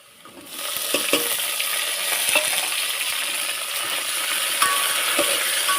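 Chili and tomato sautéing in a pan for a spicy Maharashtrian cluster-bean (gavar) curry, with a steady sizzle and scattered clinks and scrapes of a spoon against the pan, close and without talk.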